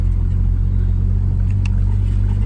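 Turbocharged Honda Civic engine idling steadily with a low, even rumble and a faint lifter tick, close and continuous with no talk.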